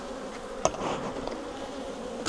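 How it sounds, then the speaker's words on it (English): Honey bees buzz thickly inside an open hive, a close, continuous drone with a brief sharp knock near the start. "There's a lot of bees in here still."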